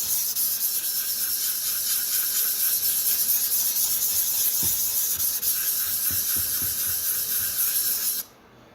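A Sabatier paring knife, very dull, is worked across a Shapton 320 grit whetstone, giving a steady close abrasive rasping and hissing with a few faint knocks, running continuously until it stops abruptly near the end.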